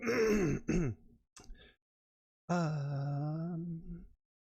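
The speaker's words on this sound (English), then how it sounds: "you hear her clear her throat." A woman clears her throat twice in quick succession, close and clear, then after a short silence gives a longer, drawn-out throaty sound.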